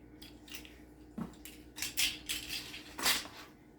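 Applesauce cake batter is mixed in a bowl, heard as a handful of close, irregular scrapes and clinks of a utensil against the bowl with short pauses between strokes.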